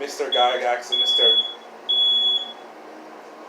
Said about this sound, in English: Sorry, that's the fire alarm going off.